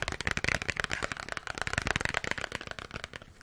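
A paper package crinkles and rustles close to the microphone in a quiet room, a dense run of crisp crackling snaps that rise and fall for a few seconds, with no talking.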